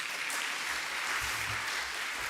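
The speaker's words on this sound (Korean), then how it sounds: "남들은 박수도 쳐주던데." A brief burst of steady audience clapping in a church gathering, a close and even wash of applause with no talking over it.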